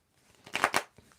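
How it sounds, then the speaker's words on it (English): Tarot cards are shuffled in a quick, soft riffle, two short bursts of papery flutter close by and fairly quiet. "Ayushi, I want you to tell me when to stop shuffling"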